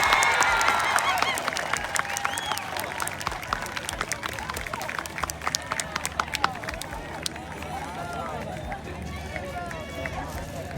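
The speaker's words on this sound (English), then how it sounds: "please join me in a final thunderous round of applause for our graduates" Audience at an 8th grade promotion ceremony breaks into sustained applause and cheering, dense clapping and crowd noise filling the hall, loudest early then gradually easing over about ten seconds.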